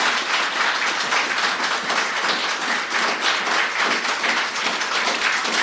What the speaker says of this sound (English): we'll give a big clap